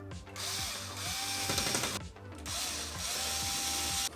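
A power supply is fitted into a mini PC case, with rapid ratcheting clicks from a screwdriver in several close, steady runs broken by brief pauses.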